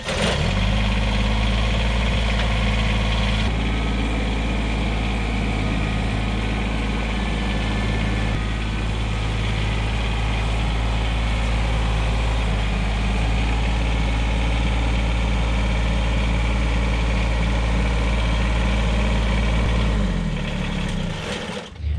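A Kubota BX compact tractor engine idles steadily and fairly close, a constant low throbbing hum that runs nearly unbroken before cutting off at the end.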